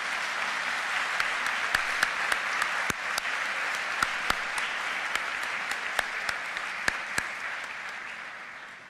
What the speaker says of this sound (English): with this round of applause for all the families and friends celebrating with us today.